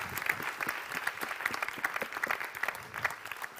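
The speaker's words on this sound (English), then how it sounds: "Big round of applause for all our panelists" An audience at a lunchtime architecture debate applauds its panelists, a soft, even patter of many hands heard from a distance, without speech.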